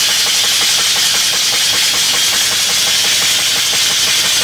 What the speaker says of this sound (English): here's a short video on this engine running with a clutch.